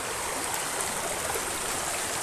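A mountain stream flows in a constant close rush of water, bright and steady throughout with no talking.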